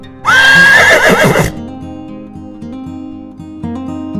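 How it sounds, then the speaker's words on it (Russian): A horse gives one loud, shrill neigh lasting just over a second, close and bright, then quiet music continues underneath. "Лошадь."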